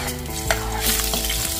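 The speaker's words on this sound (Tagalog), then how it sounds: "Igisa na rin natin itong ating mga bawang sibuyas at luya." Garlic, onion and ginger stir-fried in a little cooking oil, sizzling steadily with a spatula stirring and scraping through the pan, close and fairly loud with no talk.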